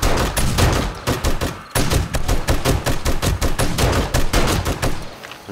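Rapid, loud bursts of gunfire in the survival video game 7 Days to Die, nearly continuous shots firing in quick succession with only a brief pause, close and dominant.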